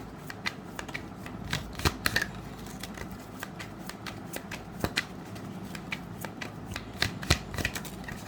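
Tarot cards shuffled by hand, a crisp flurry of close riffling and sharp snapping slaps of card edges in quick irregular bursts, with no talk.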